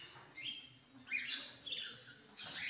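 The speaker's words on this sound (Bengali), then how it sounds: "এই দেখুন আরেকটা সাদা কোয়েল" Caged quail, brown and white, give short high chirps and squeaky calls in several separate bursts against quiet background rustling.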